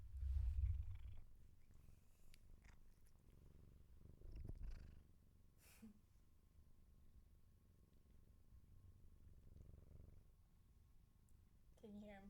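A cat purring softly and close, a low quiet rumble with faint rustling and an occasional bump.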